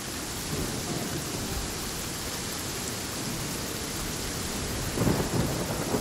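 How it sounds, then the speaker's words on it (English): Thunderstorm with heavy rain in the video game Genshin Impact: a dense, steady hiss of rainfall with a low rolling rumble of thunder swelling near the end. "Find shelter from the rain."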